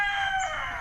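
A rooster crows once close by at a gamefowl farm, one drawn-out strained call on its own.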